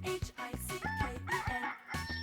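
A cartoon chicken in the Boom Beach video game crows and clucks in a busy, close, continuous burst of repeated calls lasting a couple of seconds, with no talking.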